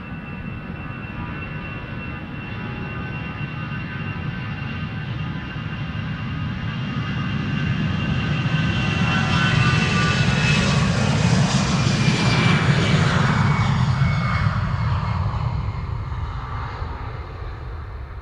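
A Lufthansa Airbus A320 departing Amsterdam Schiphol for Frankfurt, its jet engine roar building from a steady whine to a loud, close peak with a sweeping pitch shift as it passes, then easing away.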